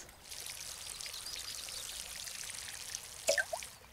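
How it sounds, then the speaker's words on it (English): Water pours steadily onto plants from a watering can in the video game Garden Simulator, a soft continuous splashing stream that ends with a few brief drips and clinks. "The water sound comes from my right ear for some reason."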